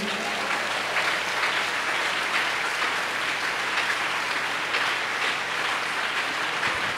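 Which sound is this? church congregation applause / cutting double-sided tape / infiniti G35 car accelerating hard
church congregation applause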